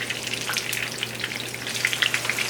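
Zucchini fries in hot oil in a pan with a steady, close sizzle and crackle, broken by faint scraping from tongs.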